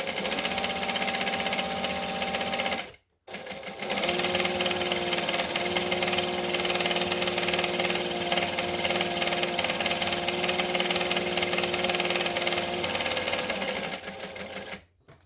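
A sewing machine stitches fabric with a steady whirring buzz, running continuously for long stretches with two brief pauses, close and loud, while a wonder bag is sewn.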